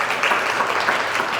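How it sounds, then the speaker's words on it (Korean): A brief burst of steady applause from a lecture audience, many hands clapping together at an even, moderately loud level. "박수로 환영해 주세요."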